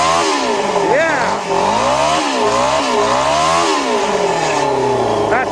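A motorcycle-engined dune buggy, started cold, revs hard toward 10,000 rpm. It gives a loud, continuous rasping whine that climbs and falls in several swells, close and steady throughout.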